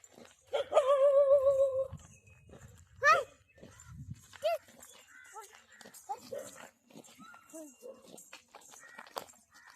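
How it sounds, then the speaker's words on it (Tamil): A household dog barking at passers-by, a few loud sharp barks near the start followed by scattered softer yelps, with people talking nearby throughout. "எங்களை பார்த்துட்டு நாய் குலைக்குது."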